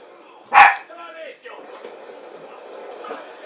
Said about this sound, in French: le chien qui vient d'aboyer c'est le mien